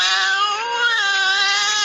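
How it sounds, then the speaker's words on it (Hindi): A cat screaming and moaning in pain, one loud, sustained, wavering wail held close and unbroken throughout. "दांतों का जोर लगाने पर वो बेचारी बिल्ली चिल्लाने और कराहने पर मजबूर हो गई।"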